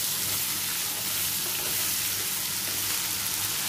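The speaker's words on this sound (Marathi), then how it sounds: "आणि ही थोडीशी साखर घेतली आहे ती घालूया आणि व्यवस्थित असं परतून घेऊया।" Water chestnut pieces with sugar sizzle steadily in a hot pan during stir-frying, a continuous close hiss of frying with no break and no talking.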